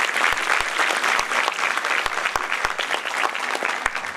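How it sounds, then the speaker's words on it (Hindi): Sustained audience applause at a public ceremony, many hands clapping together in a dense, even wash with a few sharper nearby claps standing out, steady throughout without voices. "मुझे लगता है कि तालियां जोर से बजा सकते हैं।"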